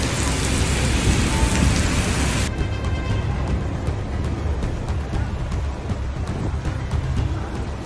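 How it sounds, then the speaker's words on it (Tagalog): Heavy rain pours down without a break during a storm in Dubai, a loud, dense hiss close by that stays even throughout. "Pag ulan ng malakas dito sa Dubai"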